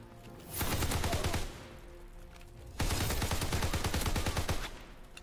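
Two loud bursts of rapid gunfire in Call of Duty: WWII, the first short and the second longer, with a brief quiet gap between them and no talking.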